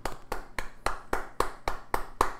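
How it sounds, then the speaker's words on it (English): Nine sharp, evenly spaced hand claps ring out alone at a moderate, steady rhythm, fairly close and crisp, like one person clapping slowly. "round of applause"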